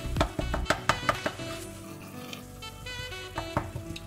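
Vegetables with carrots and tomatoes simmer in a pot for a coconut cream mung bean stew, a spoon clinking and scraping against the pot in a quick burst of stirring strokes over a soft, steady bubbling.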